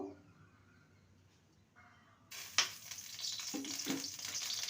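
Mustard oil sizzles in a wok after a quiet start, breaking into a bright hiss with a few sharp crackles and stirring scrapes, growing steadily louder toward the end.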